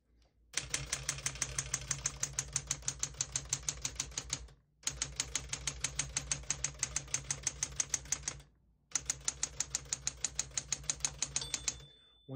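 Rapid keystrokes on a 1969 Smith-Corona Classic 12 portable typewriter, close and loud, clattering in three long bursts separated by brief pauses.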